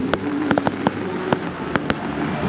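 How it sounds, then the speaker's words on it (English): Fireworks and firecrackers crack off at a football match in sharp, irregular bangs, about eight distinct pops over a loud crowd background din. "the fireworks here is going rampage"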